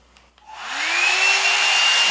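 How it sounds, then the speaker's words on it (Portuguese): A Mondial hot air brush hair dryer switches on and spins up into a loud, steady whooshing airflow with a rising motor whine, holding constant once at speed. "que é a escova secadora da Mondial"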